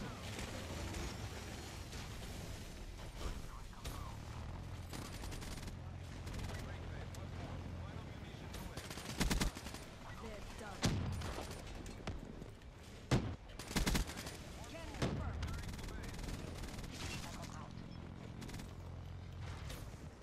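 Gunfire in Call of Duty: Black Ops 3 with the KN44 rifle: steady rattling bursts under a constant battle rumble, with a few louder cracks toward the middle while a player talks.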